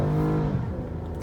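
Toyota V6 car accelerating hard on an indoor auto show test track, a brief loud engine drone with rising harmonic pitch, close and alone.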